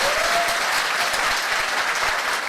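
A crowd at a motivational business meeting claps loudly and continuously for a few seconds, thick and uniform, with a faint tonal whistle or feedback briefly audible early on.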